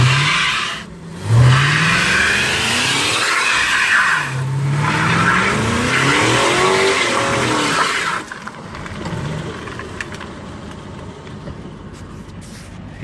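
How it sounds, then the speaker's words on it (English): Car doing a burnout with heavy tire smoke, an engine revving in rising sweeps while tires squeal and skid loudly and close, then the noise drops to a quieter idle near the end. "Yeah, she does burnouts."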